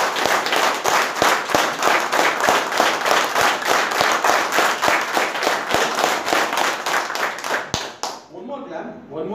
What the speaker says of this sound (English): I would request all of you to clap your hands loudly